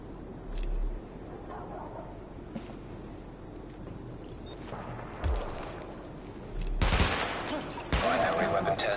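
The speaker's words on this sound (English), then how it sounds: "Open fire at the highlighted targets." Gunfire during a weapon test in the video game The Division: scattered shots and a few louder bursts near the end, mixed with game sounds and a voice talking in the background.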